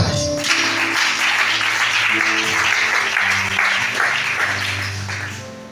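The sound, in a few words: congregation applauding during church service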